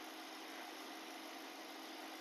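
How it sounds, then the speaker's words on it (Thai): A Toyota Camry 2.0G engine idles in a steady, smooth hum, heard close up and alone with no talking. "เครื่องยนต์เดินเบามากนะ ไม่สวิงเลยนะครับ"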